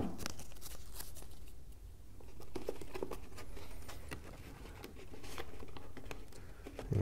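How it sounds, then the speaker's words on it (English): Strips of black tape pulled and pressed onto a homemade spectroscope, giving a steady crackly rustle with sharp tearing and tapping bursts throughout, close up, with no talking. "So here I'm going to use a couple of pieces of this black tape."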